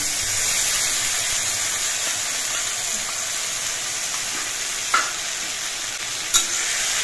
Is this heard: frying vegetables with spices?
yes